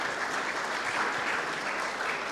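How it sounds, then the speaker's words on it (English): A conference audience at a West Africa mining security event applauds, a steady wash of many hands clapping at moderate distance with no break, and no speech over it. "A round of applause as she takes the stage"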